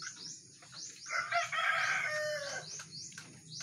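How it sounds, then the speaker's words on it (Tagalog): Backyard pet chickens, several birds clucking and squawking in short repeated calls with a longer crowing phrase in the middle, fairly quiet and close against faint outdoor background noise. "At mayroon po din po ako mga alagang manok dito."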